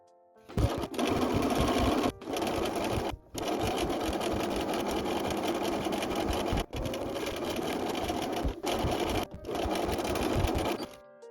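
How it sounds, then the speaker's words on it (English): A sewing machine runs a 1 cm seam along two tote bag exterior pieces, loud steady whirring bursts broken by several brief pauses as the fabric is guided through. "Place the 2 exterior body pieces right sides together and sew using a 1 cm seam allowance."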